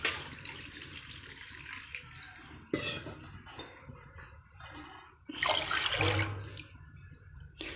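Water poured into a cooking pot for mung daal, a faint splashing and trickling in a quiet kitchen, with a louder burst of pouring near the end.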